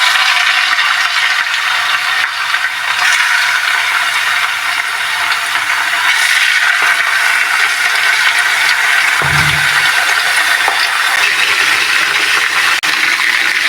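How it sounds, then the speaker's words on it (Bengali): Chicken pieces fry in hot oil for chicken biryani, giving a loud, steady, close hiss that runs throughout, with one brief low thump partway through. "এখন আমি এই সঙ্গেই চিকেনগুলো ভেজে নেব এই তেলের মধ্যে।"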